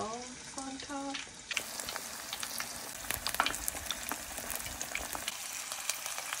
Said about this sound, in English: I'm using a spoon to spoon some oil on top.